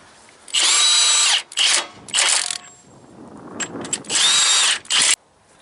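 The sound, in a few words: cordless battery impact wrench on semi trailer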